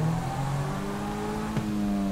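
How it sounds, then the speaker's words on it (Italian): Close engine drone of a video game car circling nearby, a steady revving tone with a short dip partway through as it shifts. "Qua becco sempre la macchina che gira"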